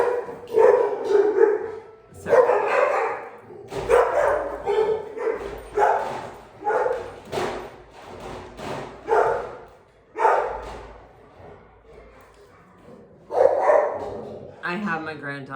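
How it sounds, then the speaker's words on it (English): Two dogs barking indoors, a household dog and a visiting grand dog, in repeated loud bursts of barks and yips with short gaps, mixed in with a person talking throughout. "I have my grand dog and my dog, and so the barking is like really intense"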